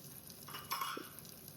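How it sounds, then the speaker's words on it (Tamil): Small onions, garlic cloves and curry leaves sauté in a pan for manathakkali vatha kuzhambu, giving a faint, soft sizzle with a brief louder stirring scrape in the middle and no voices. "5-6 சின்ன வெங்காயம், 10-12 பூண்டு பல், கருவேப்பிலை, இது எல்லாத்தையும் சேர்த்து நல்லா வதக்கிக்கணும்"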